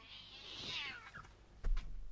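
A cat lets out a drawn-out, close meow with a rising then falling tone, followed by a shorter second call and a brief rustle or thump.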